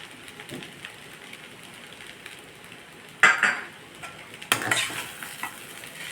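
A spoon scrapes and clinks in a pan as grated coconut is stirred into a roasting mix of spiced flattened rice, with a faint sizzle under a couple of sharper metal knocks.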